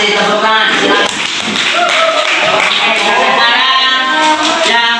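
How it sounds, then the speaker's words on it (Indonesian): A classroom of students claps in a steady, moderately loud burst of applause mixed with voices talking over it. "Oke, terima kasih, tepuk tangan."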